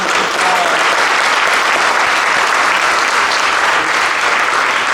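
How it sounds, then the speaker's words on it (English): A crowd applauds a student who has just asked a question about news reporter ethics and licensing at a school event. The clapping is loud, dense and steady throughout, with no voices over it. "Let's give Chloe a real round of applause."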